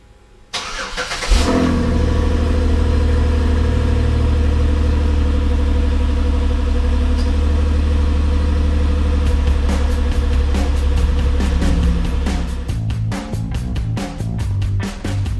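A car engine is started by remote start, cranking briefly before catching, then settling into a steady, close, loud idle with a constant low hum and faint ticking near the end.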